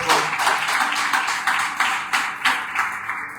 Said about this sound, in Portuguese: Vamos aplaudir pela vida das